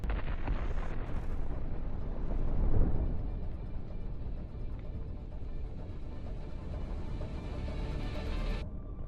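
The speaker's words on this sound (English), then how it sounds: "The explosion is so strong that the armored hull is shattered and scattered in mangled" Tank ammunition explodes after a drone strike on an Abrams, a loud roaring blast swelling early and then rumbling and crackling continuously as debris and fire carry on for several seconds.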